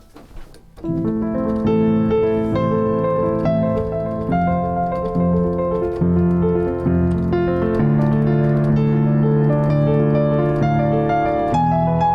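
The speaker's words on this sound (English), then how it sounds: "playing the chords in inversions can sound like this" Piano chords played one after another, sustained and ringing, stepping through different voicings at a steady, unhurried pace with no talking.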